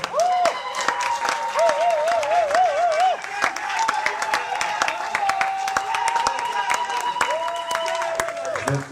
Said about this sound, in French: Applaudissez-les fort.